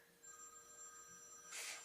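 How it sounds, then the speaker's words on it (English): A telephone rings for an incoming call, a faint steady electronic tone held through the stretch in a quiet room with no talk, ending in a brief soft burst. "I got a phone call."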